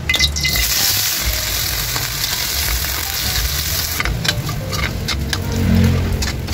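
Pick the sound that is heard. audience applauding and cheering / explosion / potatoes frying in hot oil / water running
potatoes frying in hot oil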